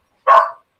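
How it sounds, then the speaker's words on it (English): One loud, close single bark from a dog, short and abrupt, standing alone against silence. "Yeah, the dog."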